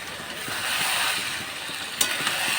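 Food sizzles and is stirred in a hot pan during home cooking, a continuous hissing fry with faint scraping and one or two small clinks near the end, close and steady.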